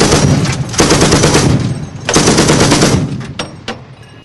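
Czech anti-aircraft gun system firing in loud, dense automatic bursts, two long rapid volleys close by with short gaps and a few trailing shots, no talking over it.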